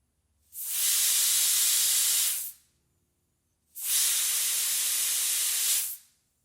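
Compressed air at about 20 psi hisses through the cylinder drain valves of a Pennsylvania A3 switcher locomotive, two steady bursts of roughly two seconds each, close and loud, separated by silence.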